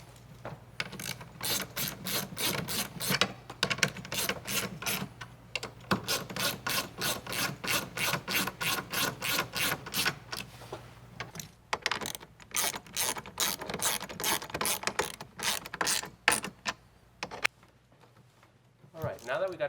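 A ratchet tightens bolts on a power recliner motor, rapid bursts of clicking in repeated runs with short pauses between, close and crisp, tapering off near the end.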